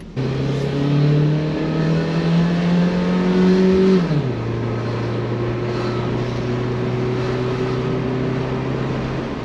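A Mitsuoka Viewt small car engine revs up steadily through the gears from 0 to 60 km/h, pitch climbing, dropping at a shift, then holding a steady hum, loud and close.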